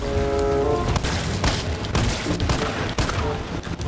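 Pistol gunfire in the video game Resident Evil 3 fires as a burst of sharp, booming shots in quick irregular succession, loud and close over a tense game backdrop.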